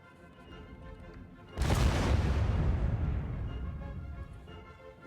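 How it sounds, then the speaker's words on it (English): A hazmat explosion in the SimCity video game sounds as one sudden deep boom that rumbles and slowly fades over a few seconds, following a quieter stretch of game background sound. "That was another hazmat explosion."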